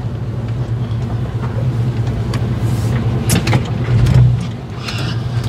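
Old truck with a 12-bolt rear end driving around the block, its engine droning steadily and close with a brief swell of revving, no voices over it.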